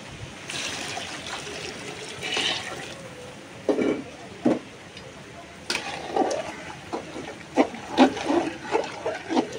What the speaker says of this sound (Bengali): চাল ডাল এগুলো সব কষানো হয়ে গেছে। এখন আমি গরম পানিটাই দিয়ে দিব।